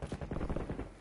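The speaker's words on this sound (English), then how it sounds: "He shot me in the face." Quick burst of gunfire in Call of Duty, several rapid sharp shots packed into about a second, fairly faint with no voice over it.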